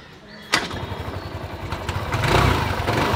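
A scooter kicked from its centre stand after a failed self-start with the choke pulled, the engine catching with a sharp thump and then settling into a steady, slightly clattering idle close by.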